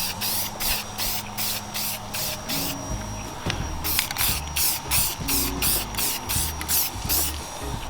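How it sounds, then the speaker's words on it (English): Spray paint can coating a Mini Cooper F56 car part, a series of short hissing bursts in rhythmic pulses, a pause, then another run of bursts, close and fairly quiet. "I found my spray paint."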